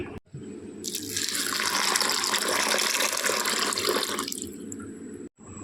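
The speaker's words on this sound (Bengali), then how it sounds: "মটরটা এখন ভিজিয়ে দিচ্ছি" Tap water gushes into a bowl of dried peas set to soak, a loud steady pour lasting about three seconds that cuts off, with quieter splashes and clunks around it and no talking.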